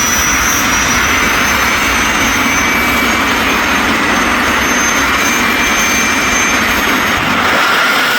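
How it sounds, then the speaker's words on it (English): A jet car powered by a Pratt & Whitney J60 jet engine roars at a drag strip, with a loud, steady high-pitched whine and a dense rumble that hold for the whole stretch without any speech. "It is running a P&W J60 jet engine and is capable of speeds of over 257 miles an hour."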